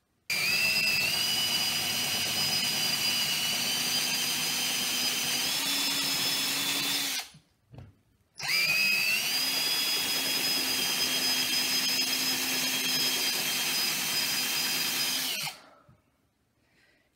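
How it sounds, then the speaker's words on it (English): Power drill boring into wood, a loud sustained whine that runs, cuts out briefly, then starts again for a second long run before stopping. "I'm going to try drilling in it"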